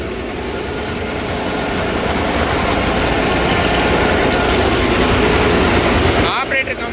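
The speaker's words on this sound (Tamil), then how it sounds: "இதுக்கு இது 8000 மணி நேரம் ஓடின இன்ஜினுங்க." 2018 Farmtrac 6065 4WD 65 HP tractor with an engine at 8000 hours, pulling a banana mulcher through whole plants in creeper gear: a loud, steady, heavy diesel drone with grinding mulcher noise, continuous throughout.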